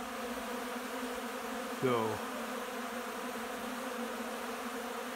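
Honeybees buzzing around a bee yard during extraction cleanup, a steady low drone with one insect passing close and louder for a moment, while a voice briefly speaks.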